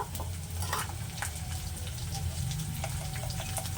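Onions frying in hot oil with ginger garlic paste, a dense steady sizzle with light stirring scrapes, close and fairly loud, no speech.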